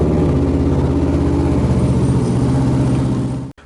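A Kawasaki Ninja 650 motorcycle engine running at idle in neutral, a steady, loud, close low rumble that holds evenly before cutting off abruptly near the end.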